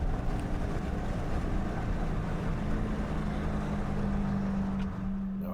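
A Dodge Hellcat accelerates on the Watkins Glen race track over a drying surface, its engine a muffled, steady drone heard from inside under rumbling wind and road noise, with a low tone holding near the end.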